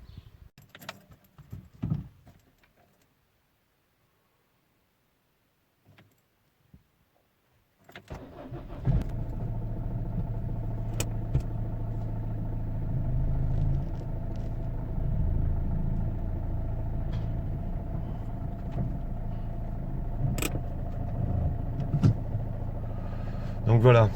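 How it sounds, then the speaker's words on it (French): A Peugeot 206 1.4 HDi, in for timing belt and water pump work, warms up after starting. Someone talks and keys jangle, then after a quiet gap the engine cranks, catches and settles into a steady nearby idle. "je fais chauffer le véhicule et je reviens vers vous après"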